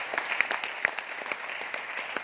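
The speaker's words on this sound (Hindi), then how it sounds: "ताली जोरदार बजाएं।" Audience at a seminar-style gathering in Aurangabad, Maharashtra applauds steadily, a dense wash of many hands clapping with a few sharper nearby claps standing out, moderately loud and without talk.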